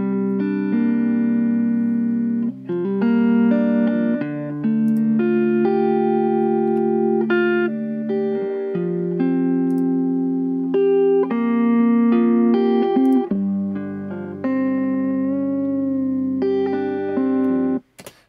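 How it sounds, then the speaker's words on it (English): Distorted electric guitar recording, first unprocessed and then reamped through a cheap passive DI box, playing a sustained chordal passage that rings loud and continuous with no talking. "So yeah, I think we can hear a lot more detail in the reamped version."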